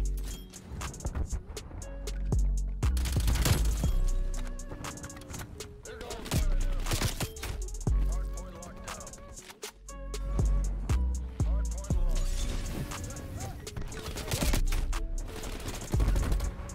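Gunfire in the video game Call of Duty Cold War: repeated loud bursts of automatic fire and single shots in quick succession, dense and continuous for much of the stretch with brief pauses between volleys.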